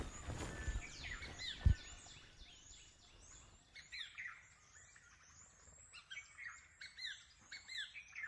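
A hornbill in Bandhavgarh National Park, India, perched low near the observers, gives a series of harsh squawking calls, clustered toward the second half, over a quiet forest background with one sharp knock early on.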